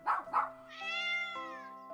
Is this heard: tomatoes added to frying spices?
no